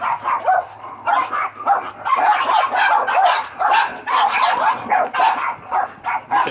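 Several dogs bark repeatedly outdoors as a delivery driver drops off a package, a loud, continuous run of barks and yips filling the whole stretch with no break.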